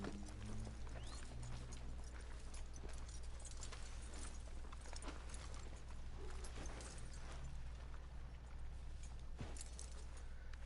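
Horse hooves clip-clop in the Western video game Red Dead Redemption 2, a steady run of hoof beats under a constant low rumble of outdoor ambience, with a few jangling tack sounds and no talk.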